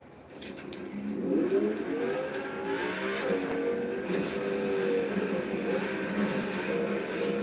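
A Ferrari's engine revs in a driving video game, rising and sustained with shifting pitch and a steady roar that continues throughout.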